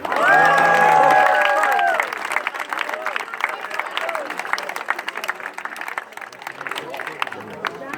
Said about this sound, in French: gros applaudissements pour les potes au feu